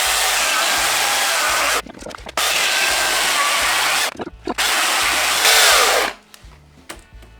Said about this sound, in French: Je sais pas si c'est notre tronçonneuse qui est pourrie ou nous qui sommes un peu cons